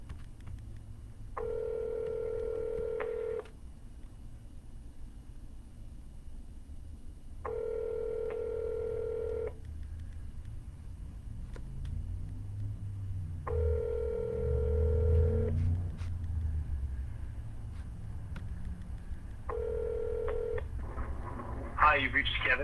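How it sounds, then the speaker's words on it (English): Telephone keypad dialing tones sound during a real estate cold call, four separate bursts of steady tones, each about two seconds long, spaced several seconds apart over faint background hum, with a brief sound near the end. "Let's see if we can get somebody on the phone."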